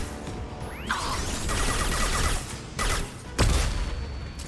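Rapid bursts of Locust SMG gunfire in the Mass Effect 2 video game, loud and dense, running continuously with a few sharper hits and whooshing sweeps layered over the shooting.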